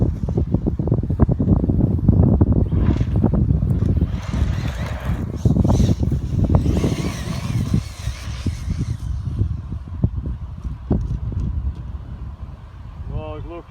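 Strong wind buffets the microphone outdoors near an Arrma Senton 3S RC car, a loud continuous roar with gusts, and people talk over it throughout.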